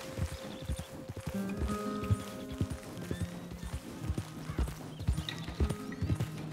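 Horse hooves clip-clop steadily at a walk in Red Dead Redemption 2, with a horse whinnying partway through, fairly close and clear over a quiet game background.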